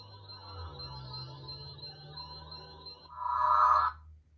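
Power-down effect from an oddball Sailor Moon sound font on a HONJIN lightsaber: a steady electronic hum and whine, then a brief louder swelling whoosh that cuts off near the end, with no speech.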